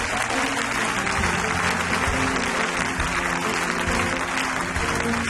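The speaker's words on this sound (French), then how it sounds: "Acclame le Seigneur encore avec nous." Church congregation applauding and acclaiming during a worship service, a dense, loud, continuous wash of clapping that holds steady throughout.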